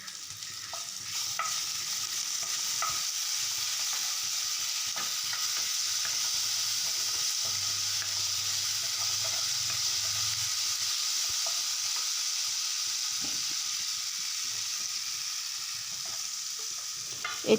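Onion and green chilies fry in a kerahi wok, giving a steady, close sizzle with intermittent scraping and stirring clicks throughout.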